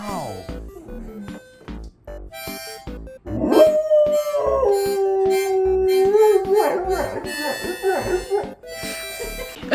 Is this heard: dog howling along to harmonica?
yes